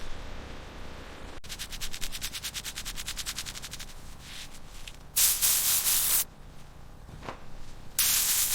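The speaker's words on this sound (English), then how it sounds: "First, scrub the tank thoroughly to remove rust and debris." Repetitive rough scrubbing on the metal fuel tank of a 1973 Porsche 911 Carrera RS being restored, close and rhythmic strokes at first, then louder hissing, abrasive bursts near the end.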